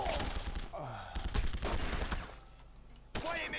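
Gunfire in The Punisher video game: a dense burst of game shots with sharp transient cracks, mixed with game sound effects, followed by a brief lull and a final loud hit near the end.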